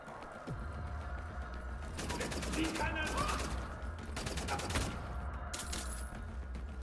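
Rapid automatic gunfire from a weapon in the shooter Wolfenstein: The New Order, two dense bursts of fast, crackling shots over steady background game noise, with a brief clink at the end.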